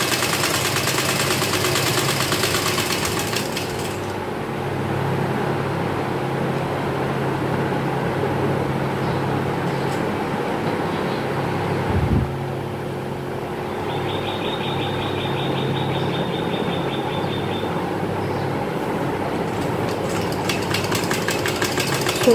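A domestic sewing machine runs steadily, stitching fabric with elastic for palazzo trousers; its mechanical hum and rhythmic chatter continue throughout with a brief pause midway.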